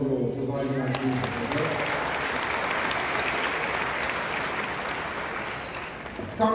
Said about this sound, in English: a little round of applause for Joe and Joe providing our team